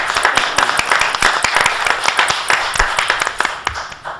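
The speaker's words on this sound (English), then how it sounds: "let's give that a round of applause" A small group at a board meeting gives a round of applause, close, sharp individual claps in an irregular rhythm filling the whole few seconds.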